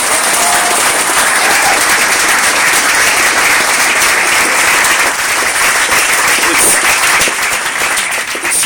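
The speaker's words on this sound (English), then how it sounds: "giving a round of applause for what we heard" Loud, dense audience applause fills a public evening conversation event about water, steady and sustained from start to finish with no voices over it.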